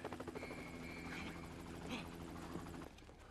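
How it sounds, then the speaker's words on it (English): A helicopter in Grand Theft Auto Online drones with a steady, rhythmic rotor chop under game sound and a speaking voice, holding level before dropping off near the end. "Duggan is being evacuated in a helicopter?"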